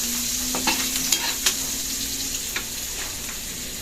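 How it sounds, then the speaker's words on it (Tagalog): Garlic and onion sauté in a hot pan for a sweet and sour tilapia dish, giving a steady close sizzle with occasional stirring scrapes and clinks. "tayo po magigisa na ng bawang at sibuyas"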